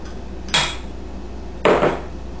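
Two eggs knocked against a mixing bowl of chocolate cake batter, two separate sharp clattery taps about a second apart, close and fairly loud over a quiet kitchen background.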